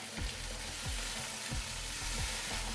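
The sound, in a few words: water poured into kadhai for cooking rice pulao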